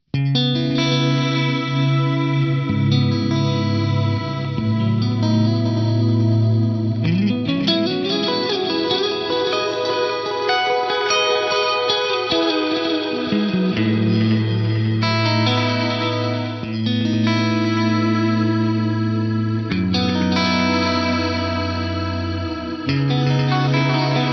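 Electric guitar heavily processed with delay, wobbling detuned pitch and gritty distortion, chords smearing into one another in a continuous, crunchy lo-fi wash.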